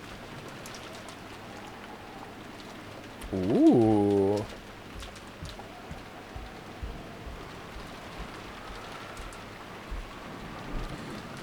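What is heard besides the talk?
rain falling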